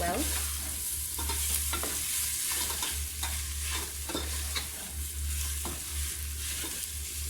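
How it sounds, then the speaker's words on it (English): Beef sizzles steadily in a pot as it browns for pilau, with a spoon stirring and scraping at a regular rhythm over a constant low hum, close and fairly loud. "So I've added in my meat. I'm just letting it cook for a minute or two so that the flavors can enter inside the meat well."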